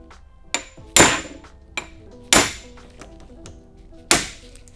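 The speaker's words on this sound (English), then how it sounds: "our last attempt here is gonna be with the impact screwdriver" Four or five sharp metallic bangs at irregular intervals, each ringing briefly, as an impact screwdriver hammers a badly stripped screw up close during an RM250 motorcycle rebuild.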